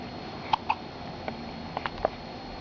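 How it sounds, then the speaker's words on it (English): Several small hiccups from a child, short sharp catches spaced irregularly over a couple of seconds, faint and close against a quiet room. "These are hiccups."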